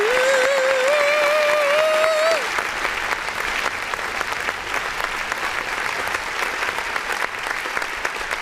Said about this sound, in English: hit this button which allows us to clap